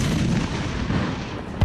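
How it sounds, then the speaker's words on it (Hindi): A heavy blast in a jungle during a military operation in Poonch, Jammu and Kashmir. A dense, rumbling boom fills the whole stretch, and a sharper thump comes at the very end. "और धमाके की आती आवाज"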